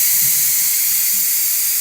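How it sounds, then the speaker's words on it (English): Loud, steady steam hiss blasting from the exhaust valve of a pressure cooker making split pea soup, continuous and close up with no talking. "And you just let the steam kind of roll out."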